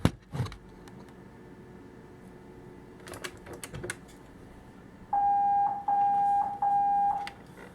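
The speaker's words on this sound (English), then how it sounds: "Nearby residents, once again, please disregard the alarms." A loud electronic alarm tone from a DSC PC5010 security system horn sounds in three long pulses with short gaps, following quieter clicking and tapping noises.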